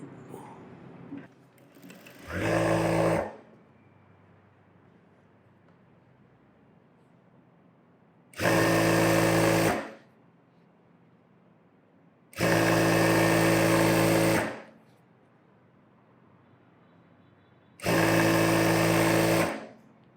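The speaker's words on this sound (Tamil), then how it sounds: "இது கொஞ்சம் ரப்பர் மாதிரி இருக்க கிளாத்துங்கிறனால இழுவை கொடுக்காமல் தைக்கணும்" A sewing machine stitching stretchy, rubber-like cloth runs in four short bursts of steady whirring, each a second or two long and separated by quiet pauses, close and clear.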